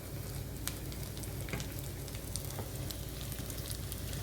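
Pigeon pea pholourie balls fry in hot oil with a steady, dense sizzle that holds even and close throughout, with no voices over it.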